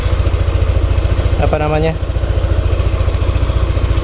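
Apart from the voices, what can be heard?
motorcycle engine idling on Meditran SAE 40 oil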